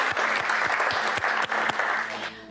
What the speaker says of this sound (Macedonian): Еден аплауз, милионот е во игра.